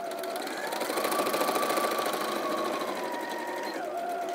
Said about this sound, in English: we're simply going to sit this onto the machine, starting at the raw edge, sewing to our first pen mark and reverse stitching